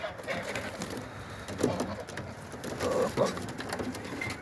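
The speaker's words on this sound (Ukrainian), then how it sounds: "Голубки наготовлені." Pigeons readied for a hawk-watching outing on a frosty, sunny, cloudless day coo in soft bursts, with low throaty calls rising around the middle and near the end amid faint outdoor rustle.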